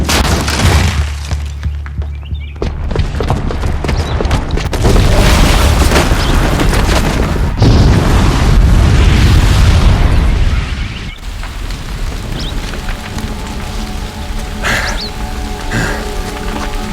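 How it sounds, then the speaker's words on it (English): A bomb blast in a Horizon Zero Dawn cutscene: loud, rumbling explosions sustained over many seconds, with crashing debris and falling rubble, then a lower, settling roar and scattered impacts. "the booby trap on the bomb downstairs is gonna get set off"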